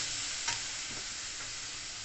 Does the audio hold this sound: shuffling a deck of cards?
no